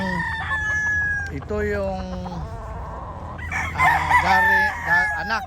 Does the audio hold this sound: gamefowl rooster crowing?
yes